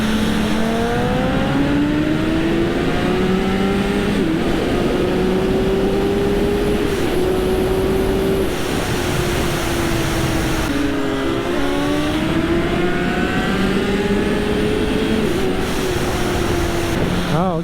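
Aprilia RSV4, BMW S1000RR and Honda CBR1000RR sport motorcycles racing, loud high-pitched engines revving and climbing through gears with repeated rising pulls and shift dips, sustained with wind noise throughout.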